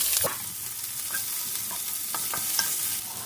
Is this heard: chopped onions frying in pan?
yes